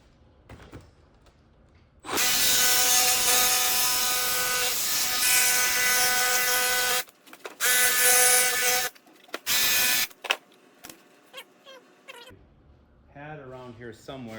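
Power saw blade cutting wood for a vintage trailer door: a loud, high whining buzz runs for several seconds, then shorter stop-start cuts follow, with a voice near the end.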